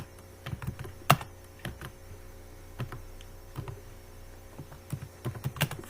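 Close, uneven clicks of a computer keyboard as C++ code is typed, bursts of keystrokes separated by short pauses over a faint electrical hum, with no voices.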